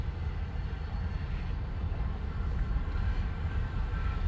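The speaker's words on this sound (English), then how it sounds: "I can barely hear the sounds of the train passing by. Like it's screeching and squeaking on the rails." A Canadian Pacific coal train rolls past at slow speed, heard as a continuous low rumble with faint rail screeching at a distance.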